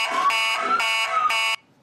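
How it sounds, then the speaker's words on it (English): A harsh electronic alarm buzzer sounds in a news sound effect, three loud pulsing beeps in a steady rhythm that then cut off abruptly into silence. "There's an alarm going beep, beep, beep."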